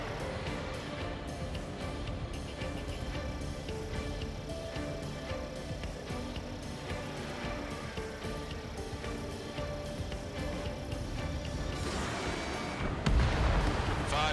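Ace Combat 7 air combat: a dense, continuous wash of missile launches, jet roar and explosion rumble runs throughout, with a louder burst near the end.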